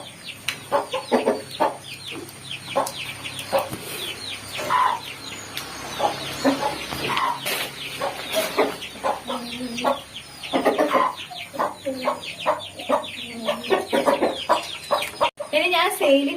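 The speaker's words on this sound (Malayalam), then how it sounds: "ഇതാണ് നമ്മുടെ കോഴികൾ" Chickens of a native breed cluck and call continuously in a chicken shed, many birds at close range producing overlapping busy clucks with an occasional louder squawk.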